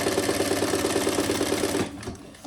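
Sewing machine stitching across the top of a fabric diaper backpack: a rapid, even mechanical chatter of needle strokes runs for about two seconds, then stops abruptly, leaving quiet handling noise.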